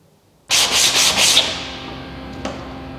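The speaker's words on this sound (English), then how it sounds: "Now I'm working with a sandpaper." Sandpaper is rubbed over wood in four quick, loud back-and-forth strokes during a budget van conversion, building a ceiling and bed. Afterward a lingering hiss fades and a faint tap follows.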